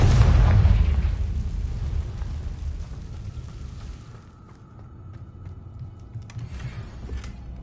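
A Confringo fire spell in the Hogwarts Legacy video game goes off as a loud, booming blast that fades into a rumbling tail. A fainter hum and crackle trail away afterward.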